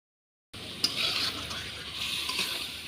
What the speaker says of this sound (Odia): ଏଠି ଅଣ୍ଡାଟା ଭଜା ଚାଲିଛି